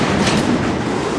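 A train moves through a station during switching, a loud, steady rumble of railcars with rolling wheel noise and rattling, heard up close with no talking.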